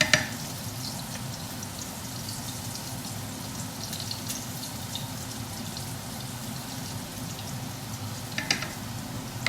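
Zucchini pieces fry in duck fat in a pan, giving a steady, fairly quiet sizzle and crackle that runs throughout, with a few sharper pops near the start and near the end.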